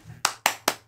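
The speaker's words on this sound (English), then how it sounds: "The crowd goes fucking wild" Three quick, sharp handclaps, evenly spaced and close, standing alone against near silence rather than the roar of a crowd.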